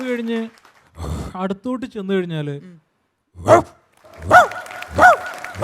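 Someone briefly speaks, then a performer imitates an ordinary house dog with three sharp barking yelps, loud and close, each separated by short pauses.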